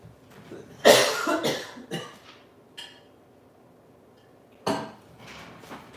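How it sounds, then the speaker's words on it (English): A person coughs several times in close succession, loud and near, with a pause and then two more coughs; no speech. "I thought I'd make it longer than a minute before I started coughing"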